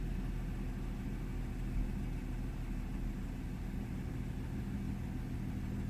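A BMW 135i F20 engine idles roughly with a steady low mechanical drone and a small bump partway through, heard close and alone without talk.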